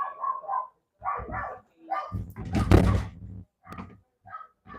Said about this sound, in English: She just annoys me sometimes, my dog.